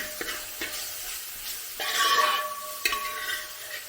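Tomatoes and capsicum stir-fried in a pan for masala rice: a few sharp scrapes and taps of a spoon, then a swell of sizzling as the vegetables are tossed, ending with another clack.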